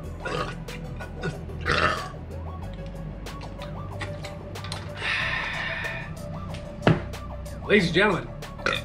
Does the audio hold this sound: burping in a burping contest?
yes